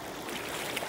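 A creek flows steadily outdoors, with broad continuous rushing and trickling water filling the whole moment, moderately loud and close, with no voices.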